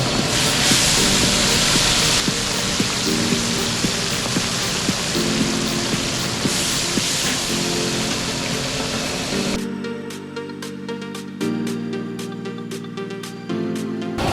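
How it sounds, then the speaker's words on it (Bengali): Katla fish sizzles and crackles in hot oil in a home kitchen during a baby shower feast, a dense steady hiss for most of the span before dropping away near the end. "এবার কাতল মাছ ভাজা হচ্ছে।"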